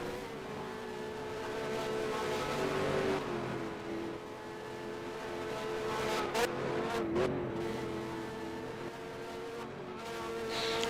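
Twin-turbo V6 race cars accelerate into turn 1 at the Russian Grand Prix, engines droning loud and steady with rising pitch sweeps as cars pass close by, no voices over the continuous roar.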